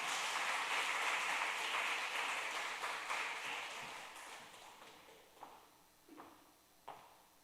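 A church congregation applauds to welcome a speaker to the front. The dense clapping runs for several seconds, thins out and fades, then a few soft knocks and footsteps follow.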